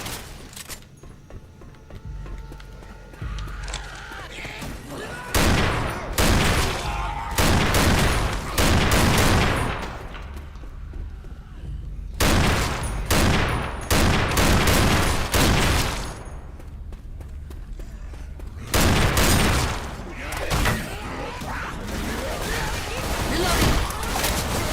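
Gunfire in the zombie shooter Left 4 Dead 2 comes in loud bursts of rapid automatic shots, several separate volleys spread across the stretch, with game ambience filling the gaps in between.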